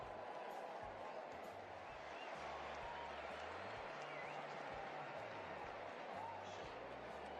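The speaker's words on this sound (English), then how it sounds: "Give a big round of applause for Joy." Applause and crowd noise at a cricket trophy presentation honouring player Mahmudul Hassan Joy after a Bangladesh A vs West Indies A four-day match, a steady, distant wash of clapping that holds throughout.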